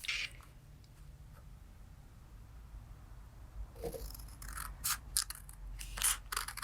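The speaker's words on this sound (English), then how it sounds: "And I'm just trimming all the way around." Scissors snip through shimmer cardstock while a handmade card is trimmed, a run of quick crisp cuts in the second half after a quiet start.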